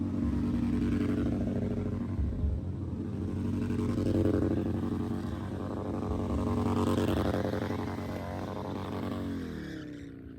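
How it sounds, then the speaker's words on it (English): Motorcycle engines rumble and rev nearby at night during Bike Week, a low droning motor sound that swells and fades as bikes pass. "Let's check out the motorcycles and what they look like at night."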